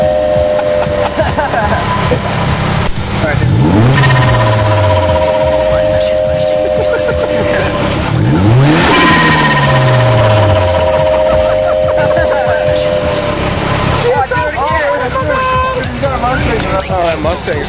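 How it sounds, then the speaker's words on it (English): A Ford Mustang engine revs loudly nearby in a busy outdoor setting, with rising and falling engine sweeps around the fourth and ninth seconds over steady traffic rumble, while people talk throughout. "that Mustang's revving at us"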